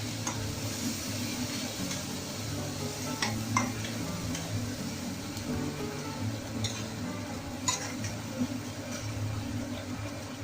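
Spice powders are stirred into kadhai mushroom in a pan over a full gas flame, steady sizzling and frying under repeated soft scraping and tapping of a spoon against the pan, with no talk.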